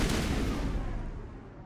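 A single heavy gunshot blast in Mass Effect Legendary Edition, with a booming report that rolls off and fades over a second or so.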